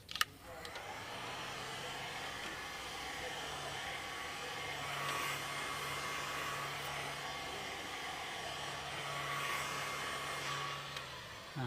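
A hair dryer blows steadily while heating a plastic seal around the edge of a refill container, a continuous mid-level whirring hum with slight shifts in pitch, no talking over it.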